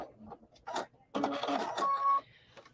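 A sewing machine runs a back stitch across fabric for a fabric basket in short mechanical bursts, a quick whirring run with a high whine before stopping, heard close with brief pauses between.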